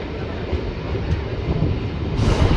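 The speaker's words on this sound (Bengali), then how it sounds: "ট্রেন দেওঘর পৌঁছে গেছে" A Rampurhat–Jasidih MEMU passenger train on a hilly Jharkhand line pulls into Deoghar with a dense, steady rumble of wheels and carriage noise that swells slightly near the end.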